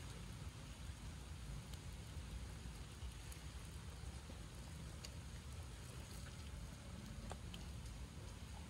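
Steady, faint rain falls outdoors in a continuous soft hiss with scattered drop ticks, no voices over it.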